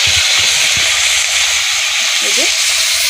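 Dried fish sizzling as it hits hot oil in a pan with turmeric and salt, a loud continuous hiss and crackle filling the space, with faint low clatter and a brief voice underneath.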